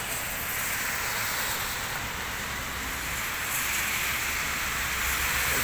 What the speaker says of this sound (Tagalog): nag-video po natin ang lakas ng ulan.